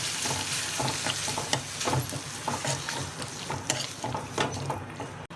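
Brinjal sautés in a pan with ginger-green chili paste and a little salt. A continuous sizzle runs under repeated stirring scrapes in an uneven rhythm, close and moderately loud.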